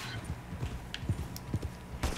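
A horse's hooves clip-clop at a steady trot in the video game Red Dead Redemption 2 Online, with evenly spaced soft thuds close by, a few sharper clicks mixed in and no talk.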